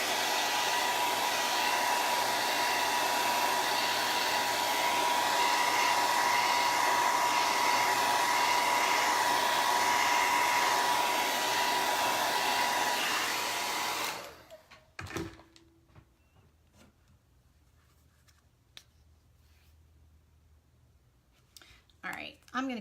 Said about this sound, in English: I'm going to hit this with the dryer real quick